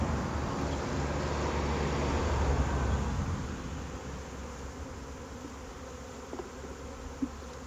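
A honeybee swarm being hived from a lilac buzzes as a dense, continuous hum, louder at first and easing off after a few seconds, with a couple of faint knocks near the end and no speech.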